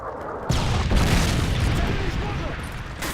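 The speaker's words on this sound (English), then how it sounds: "Friendly Predator missile inbound." A Predator missile strike explodes in Call of Duty MW3 multiplayer, a sudden loud boom at the start that rolls into a dense, sustained rumble of blast and debris filling the rest of the moment.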